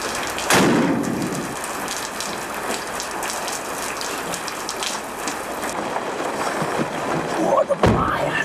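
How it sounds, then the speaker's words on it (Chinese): Heavy rain pours down in a steady, dense wash that fills the scene, with a brief voice or knock near the start and a few sharp clatters near the end. "怎么下那么大雨？"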